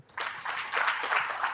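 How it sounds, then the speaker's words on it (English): Brief audience applause at an Airtel Uganda prospectus launch, a burst of clapping that rises quickly and pulses in a few waves, fairly quiet overall. "Please clap for him."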